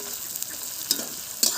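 Onion and garlic fry in a pan for cooking freshwater eel fish, with a close, steady sizzle and a few quick stirring scrapes.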